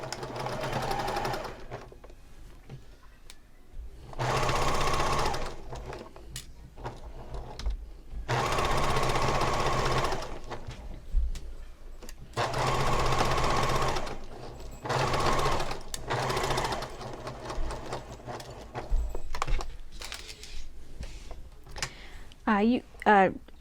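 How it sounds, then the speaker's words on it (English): A sewing machine runs in several steady bursts of fast rhythmic stitching while a pillow sham seam is sewn with wrong sides together at a 3/8 inch allowance, with a person talking in the pauses between runs. "So we are sewing wrong sides together. So we're going to sew all the way around."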